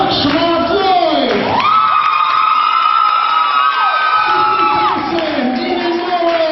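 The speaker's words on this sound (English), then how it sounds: "One more big round of applause as we bring out our 17 contestants." At a 2010 high school talent show, a large audience cheers and whoops loudly for contestants being brought out, with continuous shouting over sustained music tones.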